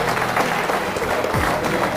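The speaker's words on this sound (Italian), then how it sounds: "Facciamo un applauso al coach che vi ha portato alle nazionali" An audience claps for a coach at a bocce club event in Tavagnacco, a steady, fairly close round of applause lasting throughout.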